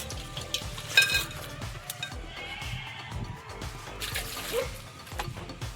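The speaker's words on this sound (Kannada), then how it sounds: "ಒಂದೆರಡು ಪಲಾವ್ ಎಲೆ ಸ್ವಲ್ಪ ಚಕ್ಕೆ ಒಂದೆರಡು ಏಲಕ್ಕಿ ಹಾಗೆ ಒಂದು ನಾಲ್ಕು ಲವಂಗ ಹಾಕ್ಕೊಂಡು ಒಗ್ಗರಣೆ ಇದ್ದೀನಿ" Bay leaves, cinnamon, cardamom and cloves sizzle steadily in hot oil as a tempering for goat leg soup, with crackling bursts and occasional spoon scrapes throughout.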